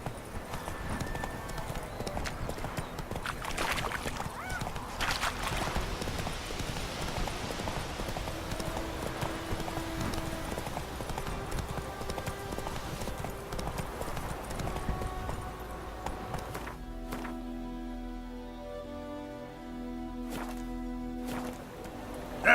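Horse hooves clip-clopping steadily on the ground in The Witcher 3 video game, a continuous walking rhythm mixed with game ambience and music toward the end.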